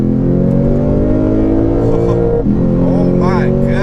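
The 467 hp Lexus GS-F engine, in Sport Plus mode, revs hard and accelerates with a loud, rising roar. It eases off briefly and then climbs again, with excited voices talking over it.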